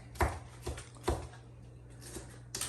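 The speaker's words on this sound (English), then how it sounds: "Doing just a little bit of chopping" Knife chops peppers on a cutting board, a few sharp, uneven taps spaced apart under a low steady hum, fairly quiet and close.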